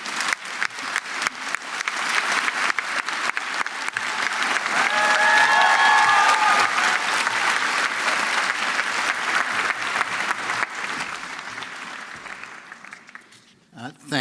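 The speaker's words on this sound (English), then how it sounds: "Can I please get a round of applause for Dr. Mark Rosenblum?" A large audience at a dental school white coat ceremony gives a sustained round of applause, swelling to a loud peak midway, with a few whoops and voices mixed in before it thins out.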